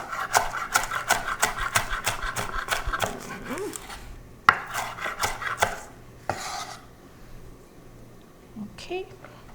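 Vegetables chopped with a sharp knife on a board, a fast rhythmic run of crisp taps, a pause, then another quick burst of cuts, with someone talking over parts of it.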